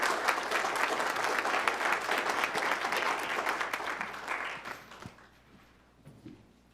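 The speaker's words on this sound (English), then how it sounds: "Let's give her a round of applause" Audience applause at a city council meeting for Loretta Montgomery, a full steady round of clapping that thins out and fades after about five seconds into quiet room noise.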